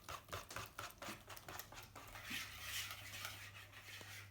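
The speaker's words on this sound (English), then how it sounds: "Add the rest of your milk. Carry on whisking." Pancake batter with milk whisked briskly in a bowl, a quick rhythmic patter of the whisk that settles into a softer continuous swish, quiet and close with no voices.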